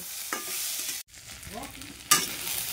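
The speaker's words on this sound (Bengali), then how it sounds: "ধুয়ে নেওয়া মুসুর ডাল দিয়ে দিচ্ছি। ভালো করে নেড়ে চেড়ে ভেজে নেব।" Washed red lentils are stirred and fried with browned chopped onion in a pan, giving a steady sizzle broken by scraping strokes and a couple of sharp clatters, with no voices.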